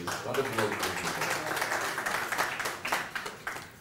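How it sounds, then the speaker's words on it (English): Audience applauding at a conference and expo in Kenya, a dense patter of many hands clapping at moderate distance, with a voice talking over it. "Round of applause."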